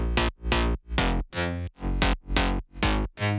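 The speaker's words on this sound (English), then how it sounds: "Bass without effect sounds like this." A clean, deep phonk synth bass without effects plays a repeating pattern of eight pulsing notes, each swelling and cutting off in a steady rhythm.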